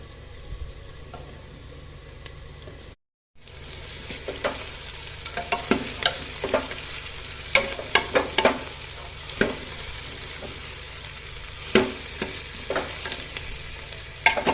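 Onions and okra stir-fried in a pan, a steady sizzle broken by a short gap, with repeated scraping and clinking of the spatula against the pan and no talk.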